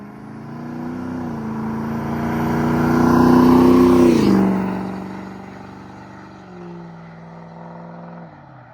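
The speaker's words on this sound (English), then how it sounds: "this is my opinion of the best sounding diesel pickup a person could get" A 2003 Ford 6.0-liter diesel pickup engine revving, a loud throaty rise building over a few seconds, peaking and dropping back to a lower idle rumble, then a smaller blip near the end.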